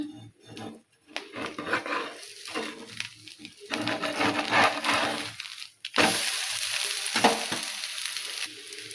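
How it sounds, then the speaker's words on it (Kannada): A jowar flour uttapam fries in oil on a hot pan, hissing and crackling close by. Scraping and clattering from flipping it break up the sound, and the sizzle turns louder and steadier in the last few seconds. "ಮೇಲೆ ಒಂದು ಸ್ವಲ್ಪ ಎಣ್ಣೆ ಹಾಕಿ ತಿರುವಿ ಹಾಕ್ತೀನಿ ನೋಡ್ರಿ"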